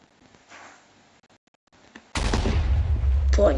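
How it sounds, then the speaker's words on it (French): A basic grenade in a Minecraft war mod goes off as a sudden loud, close blast after a quiet stretch of faint game sounds. The heavy rumble carries on with crackling debris to the end. "la grenade basique. Qui explose assez vite d'ailleurs."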